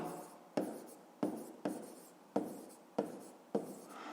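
A pen writes on paper while a fifth-grade maths exercise is being solved, making six regular scratchy strokes that each start with a sharp tap and fade out, close and clear with no speech.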